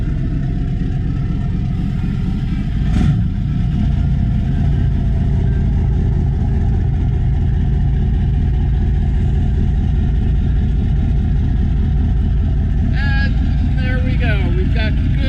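The port diesel engine of a 42-foot NautiQuest tournament sportfisher boat cold-starts with a steady, loud low rumble and idles throughout, while a few faint higher squeaks come through near the end.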